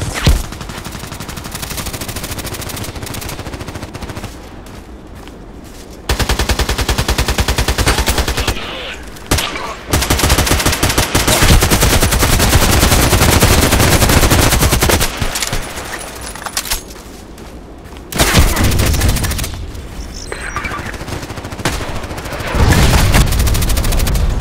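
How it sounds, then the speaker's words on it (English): Assault rifle fire in Contract Wars, with an AK-12 among the guns, comes in long loud sustained bursts and shorter volleys, broken by quieter gaps of a few seconds. "Man, this guy is just shooting me all the time."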